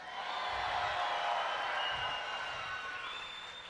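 A lively concert crowd in Colorado Springs fills the room with sustained, dense applause and cheering, a steady wash of sound with no break.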